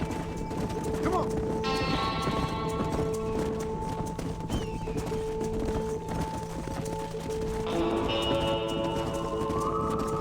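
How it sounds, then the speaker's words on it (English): Hooves clip-clop steadily as horses drive a cattle herd in Red Dead Redemption, with a horse whinnying and in-game music tones and talk running over the hoofbeats. "Keep that herd together now"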